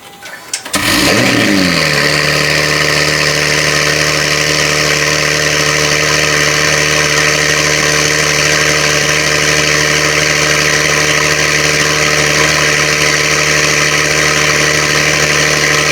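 A cold Acura NSX fitted with aftermarket downpipes cranks and fires up after about a second, then settles into a loud, steady, droning idle that runs close and uninterrupted to the end.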